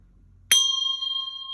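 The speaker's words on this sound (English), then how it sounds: "I send my heart along with the sound of the bell" Single struck bell or singing bowl rung to clear the space, a sudden bright strike followed by a clean sustained ringing tone that lingers steadily to the end, heard alone in a quiet room.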